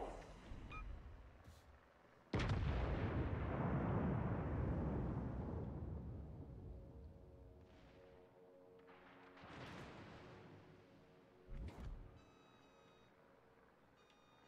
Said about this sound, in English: we'll take a shot at your superstructure